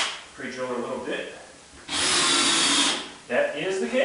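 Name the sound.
drill pre-drilling into subfloor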